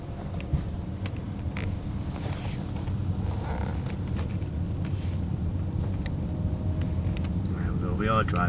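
A BMW E39 5 Series on the move gives a continuous low road and engine rumble inside the cabin, with a person talking over it throughout.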